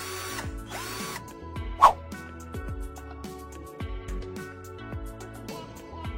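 A Nanwei 42Vf 20V cordless drill runs steadily as its trigger is pressed, giving a close, fairly even motor whine with a sharp click near the start and shifting tones as the speed changes.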